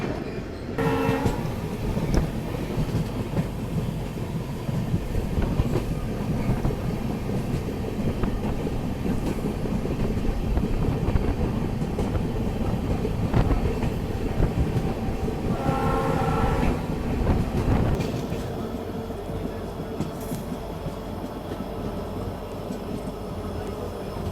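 A passenger train on its first run to Manipur rolls along the rails with a loud continuous rumble and rattle, some brief higher squeals and clatter, no one speaking.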